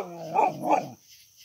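A husky at a gate gives two close, loud barks in quick succession, with a low growly edge, before falling quiet.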